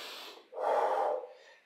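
Someone doing a glute bridge floor exercise at home breathes audibly: a soft intake, then a fuller, louder breath out, close and quiet with no talking.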